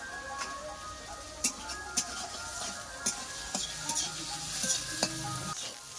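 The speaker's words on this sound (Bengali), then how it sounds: "মাছের চর্বিগুলো দিয়েছি আর সাথে কিন্তু পেঁয়াজ দিয়েছি এখন গাজর আর আলুটাকে ভেজে নেবো" Carrots and potatoes fry in fish fat with onion, a lively close sizzle broken by sharp clinks and scrapes of a spatula stirring the pan, with no voices.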